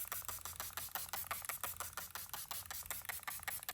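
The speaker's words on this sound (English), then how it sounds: "As you can see, I'm not shy with the setting spray." A makeup setting spray mister gives a rapid series of short, hissing spritzes in a steady rhythm, close and fairly loud, with no voices.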